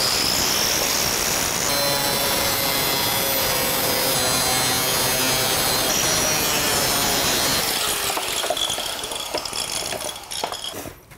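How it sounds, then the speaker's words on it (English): An angle grinder cutting metal track for carport framing: a loud, steady, high-pitched grinding whine that runs continuously, then tapers into rougher, uneven scraping toward the end. "this grinder is the greatest tool"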